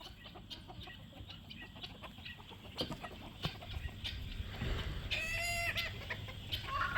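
Homestead chickens clucking in scattered, close calls over a low outdoor background, with a brief louder crow-like call rising near the end.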